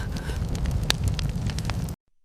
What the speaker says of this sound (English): As the fire crackles